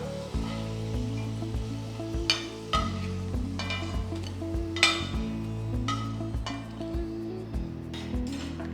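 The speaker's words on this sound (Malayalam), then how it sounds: "ബാക്കിയുള്ള പൊട്ടാറ്റോ ഇതുപോലെ ഫ്രൈ ചെയ്തെടുക്കാം." Potatoes frying in hot oil give a steady sizzle under repeated clinks and scrapes of a utensil against the pan, close and moderately loud.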